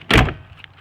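A Gulfstream Yellowstone RV door closes shut without a slam, one soft thud followed by a faint latch click and light rattles.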